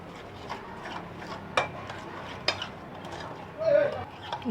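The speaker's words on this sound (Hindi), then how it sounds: "अब मैं इसमें ये पाउडर मसाले डाल दूँगी। बिस्मिल्लाहिर्रहमानिर्रहीम। इनको अच्छी तरह से मिक्स करेंगे।" Powdered spices being stirred into a marinade for KFC-style chicken wings: soft scraping and occasional clinks of a spoon against a bowl, fairly quiet, with a few sharper knocks at irregular moments.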